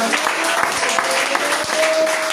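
Church congregation clapping, a brief dense burst of many hands applauding together, fairly loud and continuous with no talk over it.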